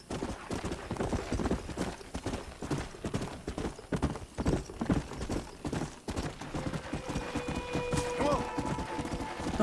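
Rhythmic clip-clop of horse hooves in Red Dead Redemption, with game sounds and occasional talking layered over the steady trotting.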